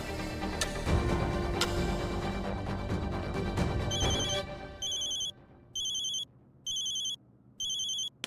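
A telephone rings with four evenly spaced electronic ring bursts. They follow a louder, busier stretch of background sound and stand alone in the quiet.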